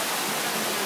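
A waterfall at a resort villa pours in a steady, broadband roar, loud and continuous with no break or voice over it.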